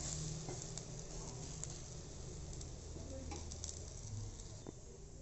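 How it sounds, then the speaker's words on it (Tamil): Besan-coated bread chilly toast frying in a pan gives a faint, steady sizzle with light pattering, alone and without talk throughout. "ஸோ இந்த மாதிரி தான் நம்மளோட டோஸ்ட்டை பண்ணி எடுக்க போகிறோம்."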